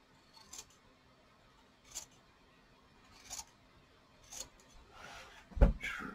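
Scissors trim the edge of fabric in a sewing project, producing a few sparse, quiet snips spaced out over a faint background, with louder handling noise toward the end.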